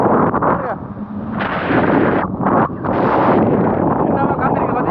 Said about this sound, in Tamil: என்னமா காத்துறீங்க பார்த்தீங்களா? பயங்கர காத்து